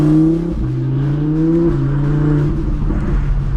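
A 1000-horsepower Audi R8 engine revs loudly and close by while the car is driven. The tone rises and falls in steady swells, with the pitch climbing and then settling over a few seconds.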